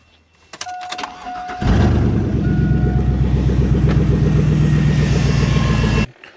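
A car engine cranks and catches using a portable jump starter, with a brief clicking start followed by a steady loud idle rumble that runs several seconds and then cuts off abruptly, with no voices.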